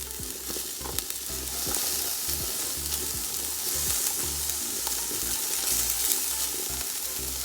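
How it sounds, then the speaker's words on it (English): Mixed fried rice fries and sizzles in a pan while being stirred, a dense continuous hiss with soft scraping and tossing sounds throughout, close and without talk. "So we want to take our time and cook our mixed fried rice with love."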